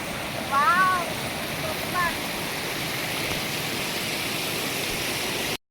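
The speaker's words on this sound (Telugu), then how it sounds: "నీళ్ళు చూడండి శబ్దము" Water flows steadily through a forest location, a continuous rushing hiss like a stream or small waterfall, close and even throughout, with a couple of brief high bird chirps early on.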